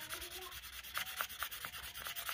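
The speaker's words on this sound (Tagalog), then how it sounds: "Ganito lang 'yan nililiha ko." Sandpaper rubbed by hand against a Mio Soul i 115 motorcycle cylinder block, a soft, steady back-and-forth rasp in quick even strokes, close and fairly quiet with no talking.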